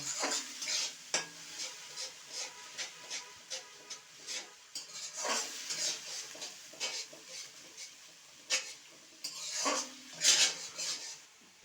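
A spatula scrapes and clinks against a pan while spiced live lata fish curry is stirred, with a soft sizzle underneath and irregular close knocks of metal on metal.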